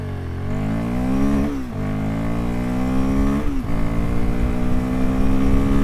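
A 2025 Royal Enfield Guerrilla 450 motorcycle launches hard, its single-cylinder engine revving up steadily through two gear changes, loud and close with a rising drone throughout.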